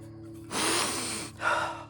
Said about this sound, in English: Sniff it.